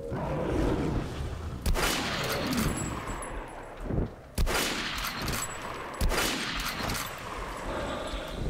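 Gunfire in the video game Metro Last Light during a swamp level, several loud sustained bursts of automatic fire separated by short gaps, with booming impacts.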